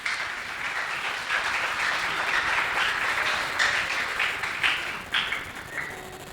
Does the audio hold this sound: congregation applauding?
yes